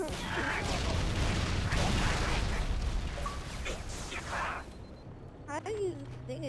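Grenade blast and rapid gunfire in the video game Halo, a loud dense burst of explosions and shots that fades after a few seconds, followed by game sound effects.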